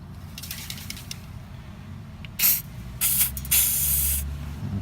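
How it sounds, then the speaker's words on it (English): Aerosol spray on the brake bolts of a 2012 Buick, heard as three short close hissing bursts, the last one held longest, over a quiet background in a garage. "And now we got to spray that."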